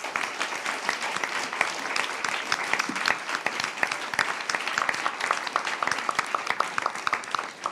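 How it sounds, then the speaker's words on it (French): Steady applause from a conference audience fills the room, many hands clapping densely and evenly at moderate loudness with no talk over it. "On peut à nouveau les applaudir."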